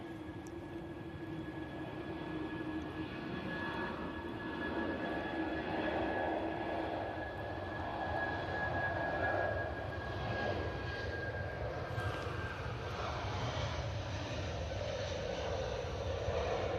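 An airliner departing for Heathrow roars in a sustained, broad engine rumble with a steady whine, fairly distant and even throughout, with no voices over it.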